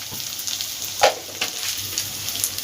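Ground spices with Kashmiri chilli powder, salt and sugar fry in a pan for a Bengali katla fish curry, a close, steady sizzle broken by a few sharp stirring scrapes and knocks.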